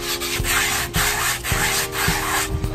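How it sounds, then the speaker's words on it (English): Grip tape folded over the edge of a skateboard deck being sanded down, a steady close abrasive rubbing in repeated strokes with soft knocks roughly every half second, alone without talk. "After that, I like to fold the grip tape in on itself and kind of sand down the edges."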